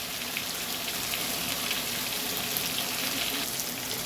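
Pieces of chicken chap frying in a pan give an even, close hiss and sizzle with fine crackles running steadily without pause, and no one speaks.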